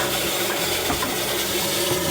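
Water refilling a toilet cistern after the supply is turned back on, following a repair to a toilet that wouldn't stop flushing; a steady, broadband rushing flow, close and continuous throughout with no voices.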